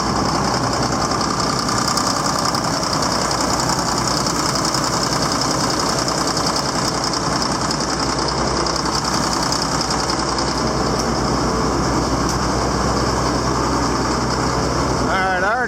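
An engine idling steadily just after a cold start, a loud, continuous rumble with a rough, knocking texture that holds unchanged from start to finish.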